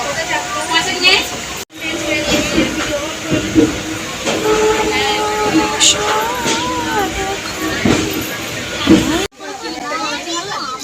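A moving passenger train rattles and rumbles steadily from inside a carriage, heard close and loud under ongoing conversation and children's voices, with brief cuts in the sound.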